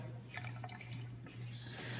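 A house tap in a kitchen is opened after a few light clicks and knocks, and the water settles into a steady, close rushing hiss that grows fuller toward the end over a low constant hum.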